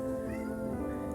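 A pet cat meows indoors, a close, steady tonal cry held across just over a second with no talk over it.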